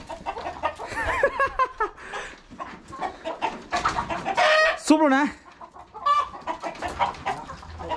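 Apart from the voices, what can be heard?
chickens clucking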